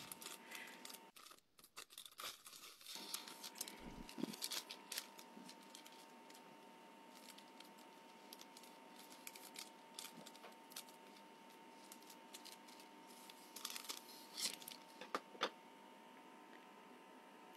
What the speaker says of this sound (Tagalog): Gagamit tayo ng malaking gunting para mabilis natin magawa yan.